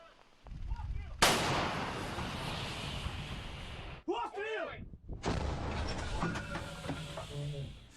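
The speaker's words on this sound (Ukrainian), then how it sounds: "скрізь лунають вибухи, працює артилерія" Heavy artillery fire booms on the front line at Bakhmut, with a loud blast rolling into sustained rumbling noise, a short break, then more rumbling and crackling.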